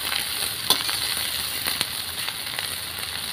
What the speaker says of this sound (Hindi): अब इनको भी अच्छे से फ्राई करते रहना है आपको, और चलाते रहें वरना कोई सब्ज़ी नीचे से जले ना।